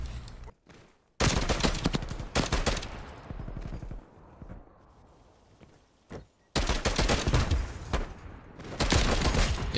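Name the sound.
TEC-9 SMG gunfire in the video game Call of Duty Cold War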